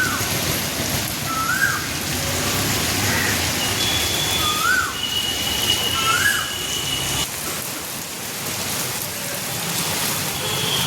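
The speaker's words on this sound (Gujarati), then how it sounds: "સવારમાં 7:30 વાગે વરસાદ ચાલુ થઈ ગયો છે" Morning rain falls steadily outdoors at 7:30, a dense even patter with a few faint bird calls over it.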